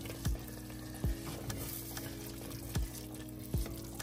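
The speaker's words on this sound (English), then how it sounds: "Still cooking down the rest of the rice and letting all this stuff evaporate." Jollof rice cooks down in a pot with a soft continuous sizzle, broken by four sharp knocks of a spoon against the pot as it is stirred.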